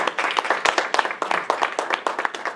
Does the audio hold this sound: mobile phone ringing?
no